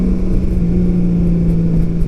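Honda Goldwing motorcycle from 2018 idling in economy mode, a steady low engine hum with a constant drone, close and even throughout with no revving.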